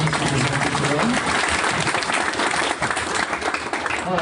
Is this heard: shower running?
no